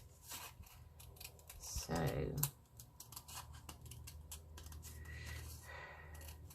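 Scissors snip around a circular piece of orange paper for a collage, a short run of crisp cuts near the microphone, with a person speaking briefly at the start.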